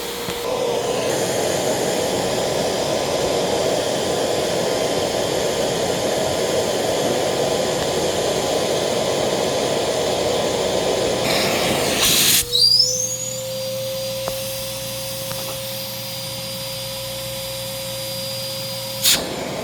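A Vortech Force XR3000 blower roars loudly during an airflow test, its rubber interior collar adding noise, then cuts off abruptly and leaves a thin, fading whine as it spins down.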